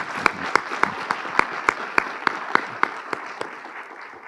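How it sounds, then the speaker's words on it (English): Audience applause for the moderator at a Sweden–Korea Nobel memorial science program, a steady wash of many hands with sharp individual claps standing out rhythmically, sustained at moderate loudness and slowly tapering. "I think we should give the moderator a huge applause as well."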